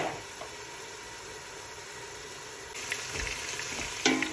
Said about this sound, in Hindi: अब इसको मसाले को अच्छे से भूनूंगी